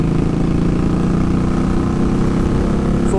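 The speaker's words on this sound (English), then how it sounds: "It's the benefits of that wonderful torquey V-twin." An Indian Scout motorcycle's torquey V-twin engine runs steadily, a loud, close, continuous low chugging drone that holds an even level throughout, with no voices.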